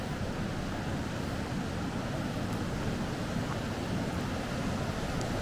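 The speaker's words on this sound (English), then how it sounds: "Listen to that water running." Steady, dense rush of Kings Creek running at an overlook in Northern California, a broad continuous roar that stays even throughout with no voices.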